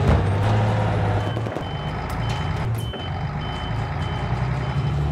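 Repeated reversing beeps from a truck in Battlefield 4's Siege of Shanghai map, a steady pulsing alarm over a loud rumbling engine with brief air-brake hiss.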